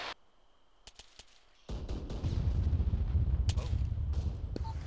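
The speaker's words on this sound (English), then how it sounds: "Tanks are engaging, hopefully." Tank gunfire in Arma 3 sounds as a few sharp distant cracks, then a heavy booming blast that rolls into a loud sustained rumble of battle, with another sharp report near the end.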